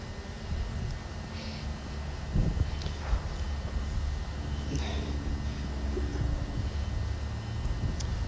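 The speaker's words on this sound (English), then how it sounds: "with this high velocity wind" Steady, strong high-altitude wind roaring over a DJI Mavic Pro drone in flight, a constant broadband rush with occasional heavier gusts, close and loud, no talking.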